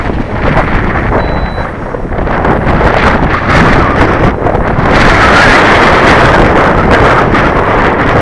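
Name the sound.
strong wind blowing on the microphone outdoors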